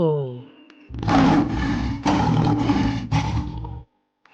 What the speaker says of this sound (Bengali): এটা হলো সিংহ।